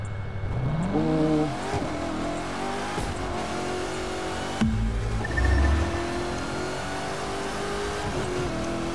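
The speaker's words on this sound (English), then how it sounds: "Bro, you hear that supercharger?" Supercharged engine of a Corvette C7 ZR1 in the racing game The Crew 2 revs hard and loud, pitch climbing then holding at a steady high drone with a brief dip and surge midway, no speech over it.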